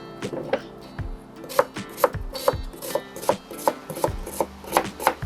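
A knife slices an onion into half rings on a board, a dozen crisp, evenly spaced cuts with soft thuds, close and clear, no voices.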